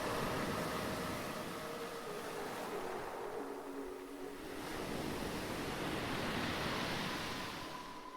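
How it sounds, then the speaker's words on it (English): Water and air forced through a rock blowhole in a seaside cave make a deep, continuous roar. The loud rushing surge swells and eases in broad waves and stays unbroken throughout. "the deep roar echoing from the rock cave is the sound of water and air being strongly compressed underground"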